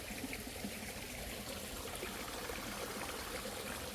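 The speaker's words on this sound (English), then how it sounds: "You hear a bubbling creek." A bubbling creek flows through a park in Kelowna, British Columbia, a steady, continuous rush and trickle of water heard up close with no break for the full stretch.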